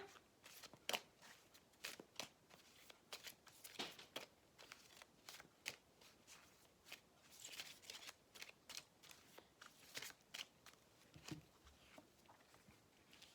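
Tarot cards are shuffled by hand in quiet, irregular bursts of soft riffling and flicking, close and faint, with no voices.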